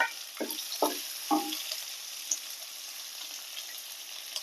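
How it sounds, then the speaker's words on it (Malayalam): Finely chopped onion and four cloves of minced garlic land in a pan with three quick, faint scrapes of a spoon. A soft, steady frying hiss continues behind them. "ഒരു ഉള്ളി ചെറുതായി കട്ട് ചെയ്തത് ഇട്ട് കൊടുക്കാം കുറച്ച് പൂണ്ട് ഒരു നാല് പൂണ്ട് കട്ട് ചെയ്തത് പൊടിയായി കട്ട് ചെയ്തത് ഇട്ട് കൊടുക്കാം"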